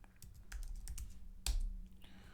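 A command is typed on a computer keyboard at a terminal: soft, quick keystrokes in an uneven run, ending with a sharper tap, quiet and close with no voices.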